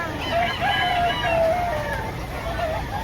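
A rooster crows a few times at a chicken market in Lipa, Batangas, where Black Henny and Black King gamefowl are sold, over a steady murmur of crowd noise.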